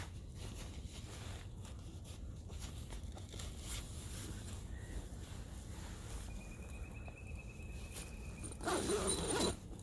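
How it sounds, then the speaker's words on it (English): Zipper on a military bivy sack pulled shut, a short, quick rasp near the end that follows quiet rustling of fabric. "Zip it up."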